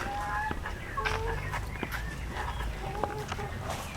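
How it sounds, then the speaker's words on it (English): A hen clucks in short bursts amid outdoor background noise, with a few sharper calls standing out; no one speaks. "And the lonely hen."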